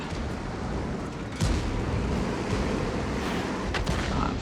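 Artillery shell firing in World of Tanks on the Malinovka map: a single heavy boom stands out at about one and a half seconds over continuous rumbling battle noise, with a fainter second report near the end.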